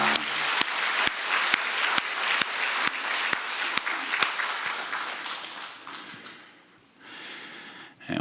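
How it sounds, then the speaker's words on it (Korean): A church congregation in a Korean worship service claps together in praise, a sustained wash of applause with sharp regular accents that gradually thins and fades near the end. "우리 박수로 한번 하나님께 영광 돌립시다."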